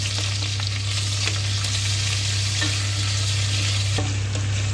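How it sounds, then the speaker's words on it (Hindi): Onion frying in a small amount of oil with cloves and kebab chini for a mutton white ishtu, a steady close sizzle with faint occasional stirring clicks, no talking. "देखिए प्याज को लाल कर रहे हैं।"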